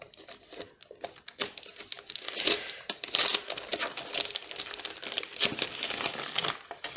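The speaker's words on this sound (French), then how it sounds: "Aujourd'hui c'est vraiment un cadeau emballé." Wrapping paper on a small advent-calendar gift crinkles and crackles continuously as it is torn open, close and fairly loud, with bursts of rustling throughout.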